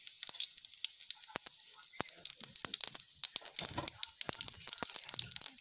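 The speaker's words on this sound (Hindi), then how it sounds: "तेल गरम हो गया। अब हम इसमें 1 चम्मच जीरा डालेंगे।" A teaspoon of cumin seeds crackles in hot oil in a pan, making sharp, irregular pops and spits over a faint hiss, close up and without speech.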